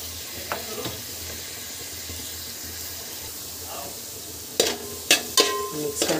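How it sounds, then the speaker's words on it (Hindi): Ginger garlic paste is stirred into a pan and fries with a faint, steady sizzle. Near the end come several louder, close clinks and scrapes of a spoon against the pan. "मिक्स कर देंगे अदरक लहसुन का पेस्ट"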